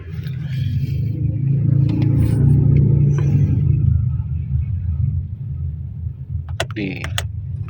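Carbureted car engine rumbling loudly on a cold morning start, a deep steady roar that fades back to a lower idle, followed by a few brief mechanical clicks.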